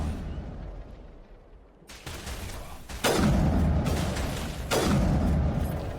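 Sniper rifle shots crack out in the Mass Effect video game, three sharp loud booms a second or two apart, each trailing into a rumbling decay, with no talking.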